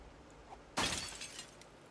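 A window pane shatters in the survival game Project Zomboid, a sudden loud crash of breaking glass followed by a short scatter of tinkling shards, heard alone.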